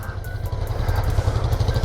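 A 1990 Suzuki GSX-R 1100 motorcycle engine drones steadily while riding, a low, continuous rumble heard close with wind noise over it, smooth and even for under two seconds.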